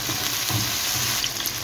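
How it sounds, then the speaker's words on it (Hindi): Onion sizzles in a pan with ginger garlic paste and tomato while cooking an aloo gobhi bhujia, making a constant, fairly loud hiss of frying with no voices. "प्याज को हमें सॉटे करना है, ज़्यादा ब्राउन नहीं करना, बस हल्का हल्का सा इसे फ्राई करना है।"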